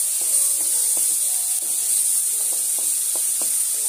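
Masala for an Odia mushroom besara frying in oil makes a steady, bright hiss with faint clinks of stirring scattered through it.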